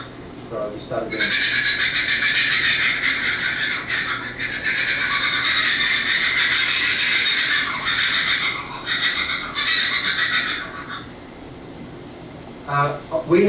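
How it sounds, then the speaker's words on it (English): A kookaburra's call plays from a recording as loud, continuous cackling chatter lasting about ten seconds, followed by a brief bit of voice near the end. "So this is the sound of a kookaburra."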